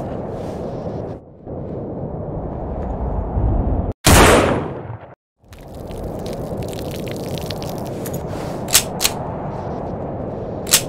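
Gunfire in the zombie shooter game No More Room in Hell, a loud sharp blast standing out over a constant rushing background, followed by a few fainter, brief cracks later on.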